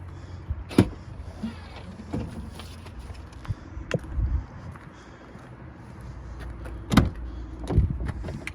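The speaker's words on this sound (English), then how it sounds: "I'm going to go ahead and start to open up some of these doors." BMW X5 Sport Package with a rare six-speed manual, its doors opened one after another: a few sharp latch clunks and thumps spread across the stretch, close by, with faint rustling and handling noise in between.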